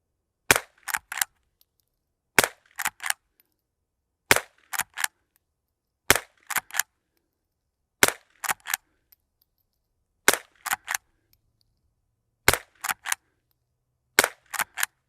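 A CZ gun fired on an outdoor shooting range with Eley Club Xtra ammunition: sharp, loud reports in quick pairs and triplets, the bursts repeating about every two seconds with clean silence between them.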